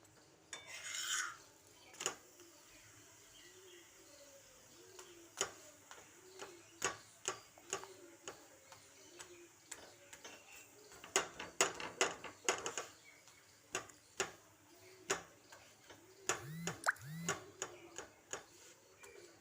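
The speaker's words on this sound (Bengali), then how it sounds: "দেখো এখনো ভাজা চলছে, মচমচে হয়ে যাবে একদম পাঁপড়ের মতো।" Leftover roti frying in mustard oil in a pan, with quiet scattered crackles, pops and scraping clicks that come in irregular bursts, with no talking.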